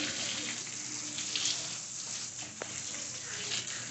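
Water runs from a household faucet fed by a rooftop water tank, a steady broadband hiss and splatter that stays fairly even throughout, with no talk.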